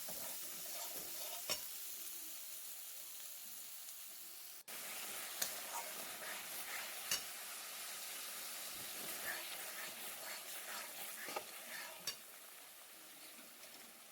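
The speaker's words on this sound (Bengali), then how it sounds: "এবার মশলাটাকে ভালো করে কষতে হবে" A spice paste of coriander powder, turmeric and Kashmiri chili powder fries for a chicken curry, a soft, steady sizzle with scattered stirring scrapes and taps, quiet throughout.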